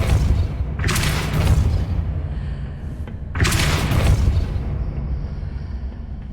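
Two deep, booming spell blasts from the Depulso push charm in the Hogwarts Legacy video game, each a loud rumbling burst fading into a low steady ambient drone.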